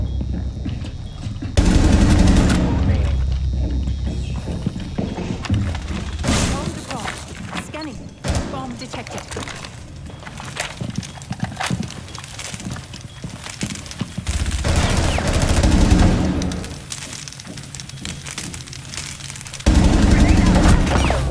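Gunfire in Rainbow Six Siege, with bursts of rapid automatic shots and sharp single cracks coming in loud clusters over the match, while a player talks and reacts throughout.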